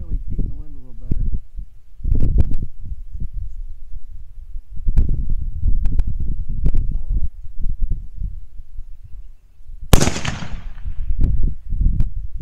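A 6GT rifle fires one sharp crack at a 975-yard target near the end, amid ongoing conversation between shooters outdoors.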